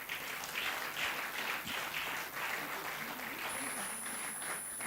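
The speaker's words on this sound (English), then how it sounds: "You can clap if you want." An audience at the Make in Nigeria 2024 grand finale applauds. Steady, fairly distant clapping from a crowd continues throughout at moderate level.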